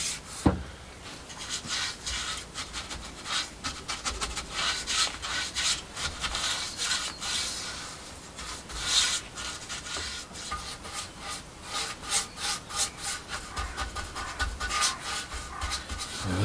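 A brush lays a second coat of finish onto wood for an outdoor bookcase, making repeated soft, scratchy strokes in an irregular rhythm, close and fairly quiet, with a sharp knock near the start.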